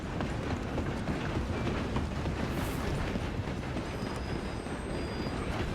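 A steam train runs on rails in the Red Dead Redemption 2 video game, giving a dense, steady rumbling roar with faint rhythmic clatter, continuous and fairly close, with no talking.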